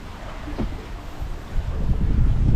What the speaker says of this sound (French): On a un bon vent.